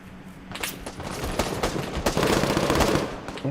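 An MG3 machine gun fires in a video game, loud rapid bursts rattling almost without pause and building in intensity toward the end.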